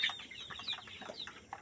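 Sonali chickens on a poultry farm give short, soft clucks in quick succession over a faint background, heard at moderate distance.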